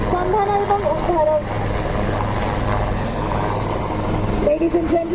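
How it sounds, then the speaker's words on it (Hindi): Indian Navy ALH helicopters hovering over the sea during a rescue display, a loud steady rotor and engine roar that persists throughout, with a public-address voice speaking over it at the start and end. "we are witnessing the simultaneous display of two different methods to evacuate survivors at sea, showcasing the rescue capability of different helicopters of the Indian Navy"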